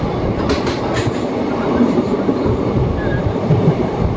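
The 13187 Maa Tara Express, running from Kolkata toward Bolpur Shantiniketan, heard from on board as a steady, loud rumble of rolling wheels and carriage noise with a faint clatter, continuous throughout and without any talk.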